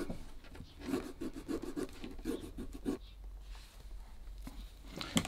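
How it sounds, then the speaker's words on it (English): A hand file rasps along the edge of a handmade shoe's sole, roughening it before gluing in rand and shank fitting; rhythmic rubbing strokes in a steady series for about three seconds, then quieter scraping, close and alone. "I'm just going around with the file and getting it a bit rougher."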